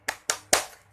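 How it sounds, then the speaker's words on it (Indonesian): Three sharp, close claps from a classroom rhythm chant, evenly spaced and crisp, each one ringing out briefly before the next. "Ibu akan mengajak kalian untuk tepuk semangat"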